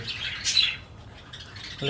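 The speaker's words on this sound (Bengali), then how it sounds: "অসাধারণ কালারের একটা জোড়া বাজিগার যারা মূলত ডিম পেরেছিল" Budgerigars from a breeding pair with newly hatched chicks give short, bright chirps and squawks close by, in quick bursts separated by brief gaps.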